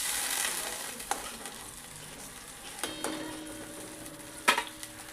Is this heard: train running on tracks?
no